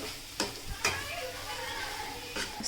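Paneer bhurji being mixed and cooked in a pan, a soft steady sizzle with a few light scraping stirs and clinks of the spoon, faint and close.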